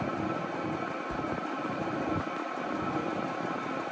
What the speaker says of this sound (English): So that's the diesel heater right there.